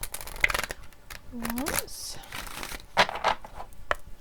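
Tarot cards shuffled by hand, giving soft papery riffles and crinkly bursts, most noticeable near the end, under and between a person's speech.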